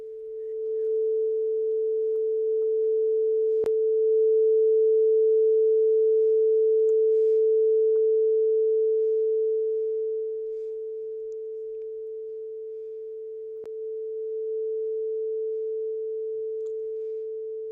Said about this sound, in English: A pure sine wave sounds like this.